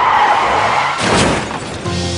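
Car tires skid and squeal loudly, a sustained screech that surges near the middle before the crash, with no talk over it.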